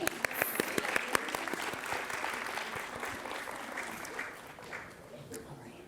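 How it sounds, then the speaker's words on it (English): Warm applause from the audience at a graduation ceremony for an intercultural learning certificate program, with a few sharp nearby claps at first, gradually thinning out. "let's have another round of applause for those three."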